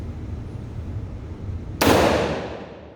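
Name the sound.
gunshot at range night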